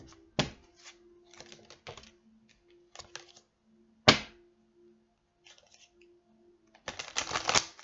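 Large oversized oracle cards being shuffled by hand, giving several sharp riffling bursts separated by quieter rustles, with a long dense flutter at the end; close and fairly quiet, no talk.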